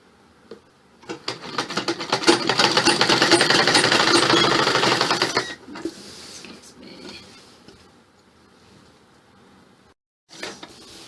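A sewing machine runs a half-inch seam on a frock, a continuous rapid stitching whir lasting about four seconds that then stops, followed by light clicks and handling, and another short burst of stitching at the end.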